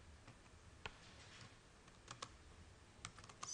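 Quiet computer keyboard typing gives scattered soft clicks and a few quick bursts of keystrokes, close and faint.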